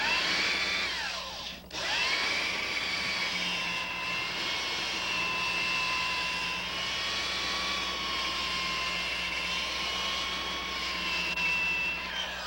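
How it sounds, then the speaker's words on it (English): A steady, continuous whine of a power sander running without pause on plywood edge banding, with a constant high-pitched tone and droning motor hum throughout. "I'm sanding the edge banding, not the plywood."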